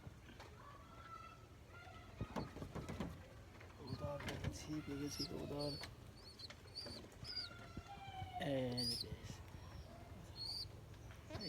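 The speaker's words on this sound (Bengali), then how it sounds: "কবুতর পেয়ে গেছি কবুতর" Pigeons cooing inside a coop with freshly hatched chicks, soft throaty coos coming in several bursts, close by, with a person talking throughout.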